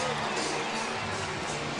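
Dodger crowd at Chavez Ravine stadium roaring steadily, a dense wash of cheering and babble from a big ballpark audience with no single voice standing out.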